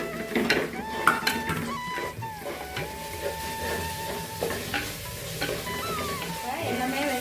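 Onions, garlic and dried red chillies sautéing in a pan, a steady sizzle with occasional stirring scrapes and light utensil clinks, close and continuous under soft talk.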